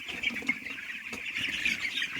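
Young broiler chicks in a poultry farm shed on a cold, misty morning, a continuous high chorus of faint peeping and cheeping from many birds at a distance, with no voices.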